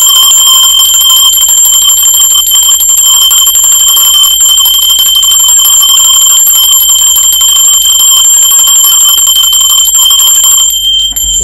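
A bright bell rings steadily with sustained, shimmering metallic overtones for about ten seconds, loud and close, then cuts off.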